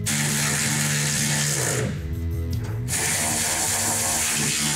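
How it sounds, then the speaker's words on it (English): Bolts being driven tight on a leaf spring hanger with a power tool, a loud continuous whirring buzz that stops abruptly for about a second partway through and then resumes. "Let's tighten down all of our bolts."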